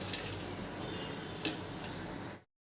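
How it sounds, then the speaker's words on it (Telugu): Sweet potato chips frying in oil over a low flame, a steady soft sizzle with one brief sharp tick midway before cutting off abruptly. "పొయ్యి కొంచెం సిమ్లో పెట్టుకుని వేపుకుంటే లోపల దుంప కూడా బాగా వేగుతుందనమాట."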